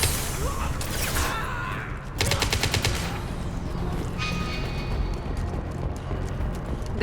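Gunfire during combat against mercenaries in Mass Effect 2: rapid bursts of shots that are loudest in a dense rattling stretch midway, set against continuous battle noise, with no clear talk.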